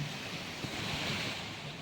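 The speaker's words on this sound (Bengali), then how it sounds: "এবার কিন্তু হাওয়াটা অনেক জোরে দিচ্ছে" Strong storm wind in Ranchi roars steadily past the microphone, a continuous rushing noise with no voices.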